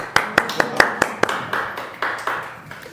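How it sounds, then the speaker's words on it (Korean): A church congregation at a Sunday worship service claps in sharp, separate hand claps that start crisp and spaced, then soften into looser, scattered applause in a reverberant hall. "박수 한번 주세요."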